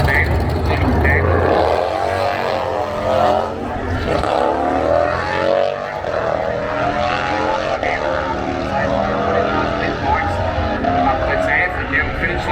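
A Harley-Davidson Low Rider motorcycle drag-races at an off-street drag meet, its engine rising in pitch through repeated accelerating sweeps, heard at a distance beneath continuous announcer commentary over a loudspeaker.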